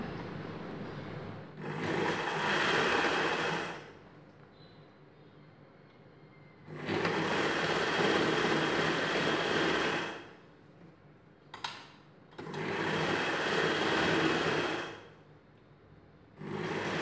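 A sewing machine stitches a princess cut blouse in three sustained bursts of rapid whirring, each lasting about two to four seconds, with quiet pauses between and a brief click near the middle.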